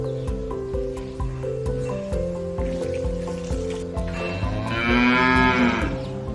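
Texas Longhorn cattle lowing, with drawn-out, loud, close moos that rise into a stronger call near the end, over steady barn or farm background noise.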